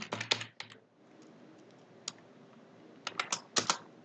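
Someone types Python code on a computer keyboard in quick clattering bursts of keystrokes, with a quieter pause in the middle and a few isolated taps, close and clear.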